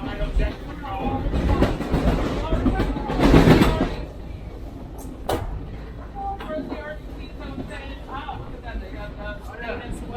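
A Reading & Northern passenger train on its first Pittston-to-Jim Thorpe run rumbles along the tracks with rhythmic clatter and a loud burst of wheel noise early on, while people chat in the background.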